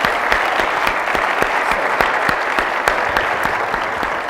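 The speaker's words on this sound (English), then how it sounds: "That deserves a round of applause." Audience applause at a public conversation event with Justice Sandra Day O'Connor, steady dense clapping from a large crowd filling the whole stretch, loud and close with sharp individual claps standing out.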